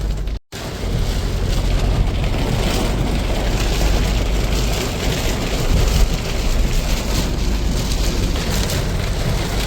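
Steady rain falling in Thrissur, Kerala, a dense continuous hiss and patter on surfaces, loud and close, beginning after a brief dropout and holding level to the end with no voices.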